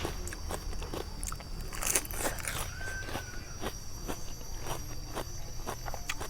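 Crunchy cuttlefish tentacles in a papaya salad with fermented fish sauce and rice noodles are bitten and chewed close up, giving repeated crisp crunches in a steady rhythm over a faint background of insect chirps.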